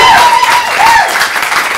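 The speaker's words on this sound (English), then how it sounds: "can I have that amount of clapping and cheering, please?" A live comedy-show audience claps and cheers loudly and steadily throughout, a dense wash of applause with a few whistles and shouts rising above it.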